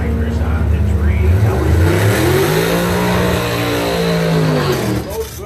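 A qualifying pass by a drag race car, its engine roaring loud and close with a long rising then falling harmonic sweep as the car passes, sustained for several seconds before cutting off.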